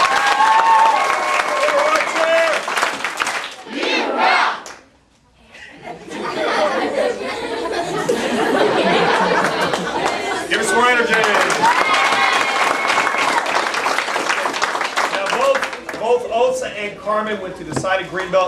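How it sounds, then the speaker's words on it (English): Audience applause and cheering at a martial arts belt ceremony at a family martial arts center in Mount Dora, a dense, steady wash of clapping and crowd chatter with a voice calling out over it. "So give Ashley a big round of applause."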